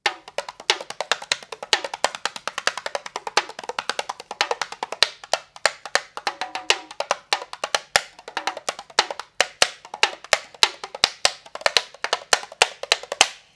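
A Sound Shapes percussion instrument is struck in a rapid, busy pattern of sharp taps and hits, close and moderately loud, with no voices.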